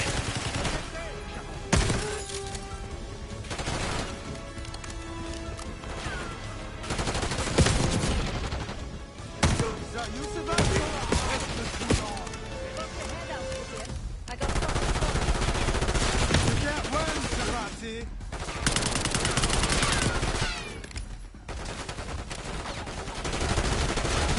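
Heavy gunfire in the Black Ops 6 campaign, with bursts of machine-gun fire and sharp single shots that come in clusters and stop for short gaps, loud and close, with voices now and then.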